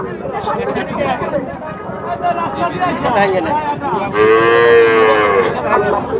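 A cow lets out a long, loud moo near the end, with people talking over a busy crowd at a Bangladeshi cattle market throughout.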